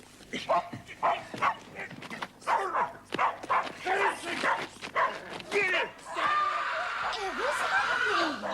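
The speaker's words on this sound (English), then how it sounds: "Sounds like a dog fight." Dogs fighting in a period drama set in 1975-era Cornwall production, a burst of snarling, yelping and excited barking, close and loud, with people's voices shouting amid the commotion.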